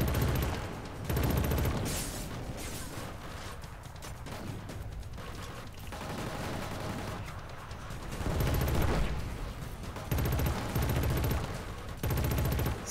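Dense gunfire from the video game Killzone Shadow Fall, with sustained bursts of shots and explosive crackle that keep rolling loudly throughout, with no talking.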